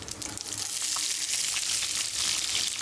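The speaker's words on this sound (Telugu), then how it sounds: "ఇప్పుడు ఉల్లిపాయ ముక్కలు వేసుకోవాలి" Onion pieces and curry leaves frying in hot oil for gongura chicken curry, a steady dense sizzle that swells and holds close and loud throughout, no talking.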